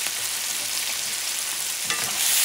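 Beef cubes sautéing in a pan give a steady, close hiss of frying that holds evenly throughout, with a soft stir near the end.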